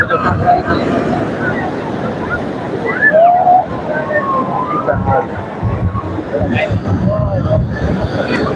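Sea waves roll in a steady, loud wash at Digha beach as the tide rises, with voices, whistles and crowd noise scattered over the surf.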